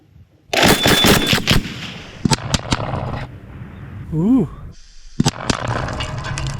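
An Mk19 automatic grenade launcher fires in bursts of loud rapid thumps at close range, with pauses between volleys and a rising whine in one gap.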